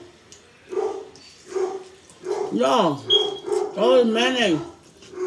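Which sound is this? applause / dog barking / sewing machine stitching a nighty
dog barking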